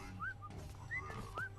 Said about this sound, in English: Every time I whistle, he just slows down slightly.